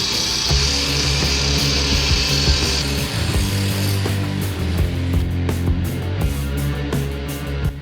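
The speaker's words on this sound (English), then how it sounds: "This of course meant breaking out the grinder wheel." An angle grinder wheel works a steel swing arm on a Jeep Grand Cherokee rear tire carrier, a loud continuous grinding with a harsh high whine at first, then choppier, pulsing contact over low motor drone.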